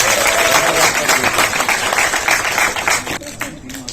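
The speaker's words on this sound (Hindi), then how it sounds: "मेरे ख्याल से तालियां बजते रहना चाहिए" Applause from an audience at a prize-giving for postgraduate students, loud, dense clapping that carries on for several seconds before thinning out near the end.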